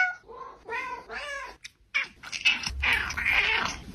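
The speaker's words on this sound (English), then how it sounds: "Each of my four cats has a totally different voice." Several house cats meow one after another, each with a distinct voice: drawn-out, rising and falling calls, fairly close and clear, followed by a busier, noisier stretch of mewing and rustling.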